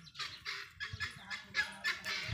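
Domestic Muscovy ducks give a series of hoarse, breathy honking calls, about six rough bursts in quick succession, close by with some low background noise.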